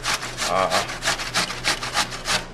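Food being rubbed back and forth on the coarse side of a hand grater, a close, rhythmic rasping with about ten quick strokes in a steady back-and-forth pattern.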